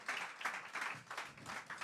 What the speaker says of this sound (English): You can applaud one more time for Fay Victor, Melanie Dyer, and Luke Stewart.